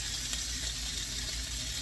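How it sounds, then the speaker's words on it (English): Beef hits a hot preheated pan and sizzles, a steady broad crackling hiss with a low hum beneath, continuous and fairly close, with no talking. "Take your meat, bam, instant sizzle."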